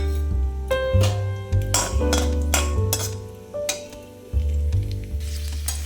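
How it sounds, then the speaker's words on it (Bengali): Cashews and raisins sizzle and crackle in bursts as they fry in oil, with occasional clinks, over a tonal background melody. "এবার এর মধ্যে কাজু আর কিশমিশ একটু ভেজে নেব"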